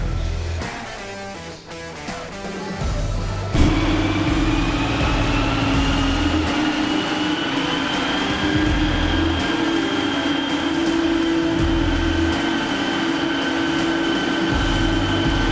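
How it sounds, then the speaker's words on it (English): Skoda Octavia vRS TDI 181 diesel on a dyno. The engine's steady drone starts low and climbs into a sustained loud roar with a rising whine, close and continuous. "today on our dyno we've got this SKODA Octavia VRS TDI 181."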